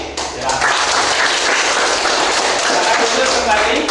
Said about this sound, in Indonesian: kita tepuk-tepuk aja tuh